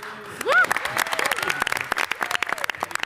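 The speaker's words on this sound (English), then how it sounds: "Cheering crowd back there." Outdoor crowd at a Coney Island ferry expansion announcement applauds and cheers, scattered claps and whoops mixing with nearby voices talking.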